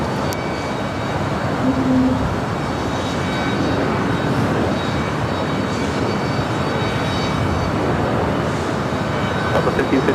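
An Alaska Boeing 737-900ER jet at LAX gives off a broad, steady roar, fairly loud and continuous for the whole stretch with no talk.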